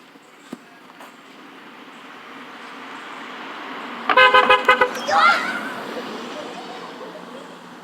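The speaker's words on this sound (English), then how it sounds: "He's gonna honk." A car horn toots in a quick stutter of short honks, then one longer blast, loud against steady outdoor traffic rumble.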